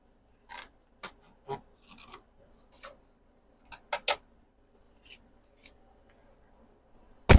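Scissors cutting a paper pineapple image for a handmade card, a series of sparse, crisp snips and rustles, close and quiet, with no talk.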